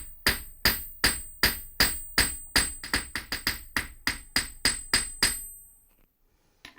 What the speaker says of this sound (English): I'm going to be hammering out here on this curve.